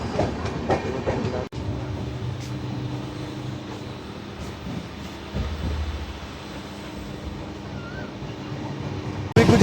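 The Mahabodhi Express passes on the line at Tundla Junction while overtaking the Sangam Express, producing a steady, fairly close rail rumble with wheel clatter for the whole stretch, alone with no voices.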